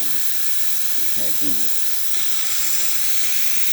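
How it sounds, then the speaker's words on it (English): Steam from the steam wand of a Jura coffee machine hisses steadily and strongly throughout, with someone speaking briefly and faintly beneath the hiss. "we'll still be able to see the steam coming out of the one. As you can see, nice pressure coming out of the steamer one"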